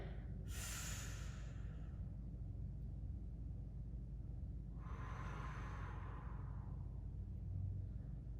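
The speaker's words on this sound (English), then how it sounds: "So deep breath in." Two long, deep inhalations during a meditation breathing exercise, each a soft airy rush, separated by quiet with a low steady background hum.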